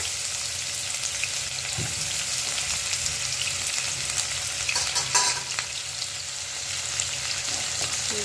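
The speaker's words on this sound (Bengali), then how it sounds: "এই তেলে এখন আবার কুচনো পেঁয়াজগুলো দিয়ে দিচ্ছি" Chopped onions sizzle and crackle steadily in hot oil, with a few scraping stirs and no talking.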